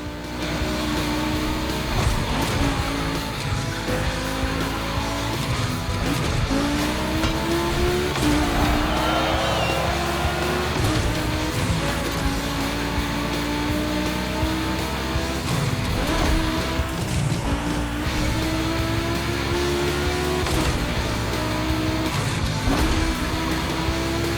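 Volkswagen race cars roar around a track in The Crew Motorfest, engines rising and falling through gear changes with occasional tire squeals, a continuous dense racing mix with no talk.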